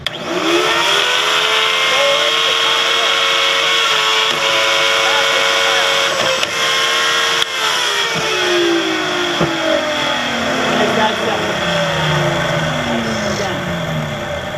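A professional mass-production woodworking machine of the kind used in cabinet shops cuts the side of a step stool, giving a loud, steady whine whose pitch holds and then sweeps downward as the cut finishes.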